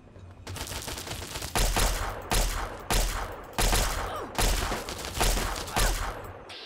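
Gunfire in Fallout 3 comes as a series of loud, sharp shots, roughly six heavy blasts spaced at fairly regular intervals, each followed by a brief rumbling decay.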